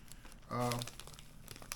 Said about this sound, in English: you're going to use Ziploc bags made by Hefty because they're decent quality